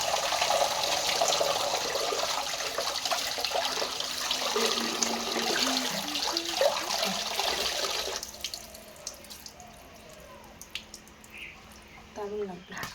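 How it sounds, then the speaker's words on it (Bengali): Food rinses in a basket under a running tap in a home kitchen. The water splashes steadily for several seconds, then cuts off, leaving a few small drips and handling sounds. "ঝুড়িতে ভালো ধোয়া হয় সব থেকে"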